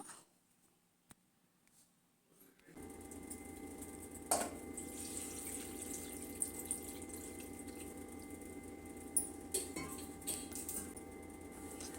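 Water pours into a pot for boiling Maggi noodles: a short quiet stretch, then a steady rushing stream that runs on evenly, broken by a couple of sharp metallic clinks.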